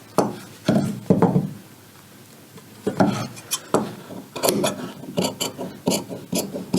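Scissors cut through trouser fabric at close range, giving scattered rasping snips and rubbing sounds in short bursts, denser toward the end.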